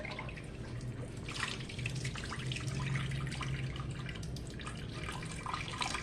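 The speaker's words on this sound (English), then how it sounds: "I'm going to drain the water off of these." Water pours off cooked potatoes into a kitchen sink, a quiet, continuous splashing and gurgling stream with dripping, fairly close and steady throughout.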